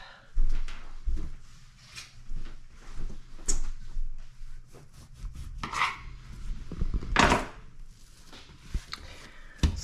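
Greased bread dough is pulled and divided in half on a work surface, giving soft sticky squelches and dull thumps with scattered sharper knocks, close and uneven in rhythm.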